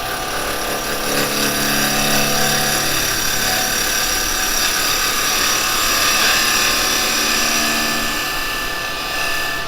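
A square carbide tool cuts yew wood spinning on a lathe, giving a continuous loud, close, hissing scrape with a steady machine hum underneath and no talking.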